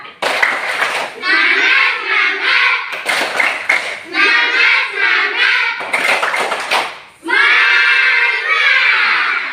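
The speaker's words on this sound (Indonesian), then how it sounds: "Tepuk semangat." Schoolchildren in an Indonesian classroom perform a rhythmic clapping chant, with short bursts of group clapping alternating with loud chanted voices across the clip.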